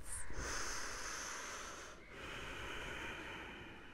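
Slow, deep breathing while holding a yoga pose: a long airy inhale and exhale, close and soft, with a short pause between breaths and no talking.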